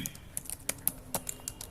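Keystrokes on a computer keyboard as an md folder-creation command is typed at a command prompt: a handful of quiet, irregular clicks spread over under two seconds, close and alone.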